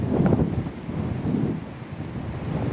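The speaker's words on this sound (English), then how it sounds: "Today it's sunny and very windy." Strong wind on a sunny day while splitboarding buffets the microphone in a steady, loud roar, with low rumbling gusts rising and falling and no voices.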